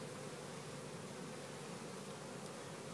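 Honey bees buzz around a package being hived, a faint, steady hum with no breaks or other sounds.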